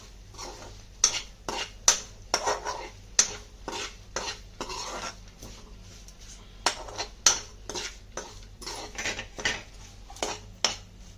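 Broad beans (chikkudukaya) frying in a pan, stirred with a metal spatula that scrapes and knocks against the pan in quick repeated strokes over a soft sizzle.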